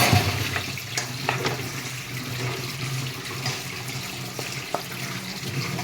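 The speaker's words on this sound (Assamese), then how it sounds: "এয়া মই দি ল'ম আদা নহৰুৰ পেষ্টটো। আকৌ তল ওপৰ কৰি লৰাই দিম।" Chicken with ginger garlic paste being stirred and turned in a pan, a wet sizzling hiss punctuated by scattered clinks and scrapes of the spoon, close and steady, with no talking.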